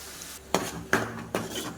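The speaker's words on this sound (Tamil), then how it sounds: "இஞ்சி பூண்டு பேஸ்ட் அரைச்சி வச்சதை விழுதை எடுத்து போட்டு நல்லா அது ஸ்மெல் போகிற அளவுக்கு வதக்கிக்கோங்க" Ginger garlic paste sautéed in a pan, three sharp scraping stirs of a spoon against the pan over a soft sizzle, close and distinct, without talk.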